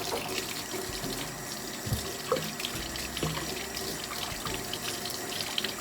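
Kitchen tap runs steadily into a sink while children wash their hands, a continuous close splash with occasional knocks and drips from hands moving under the stream.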